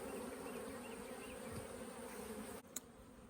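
Bees hum steadily around hives in South Alabama in late November, a continuous soft buzz with a brief click near the end.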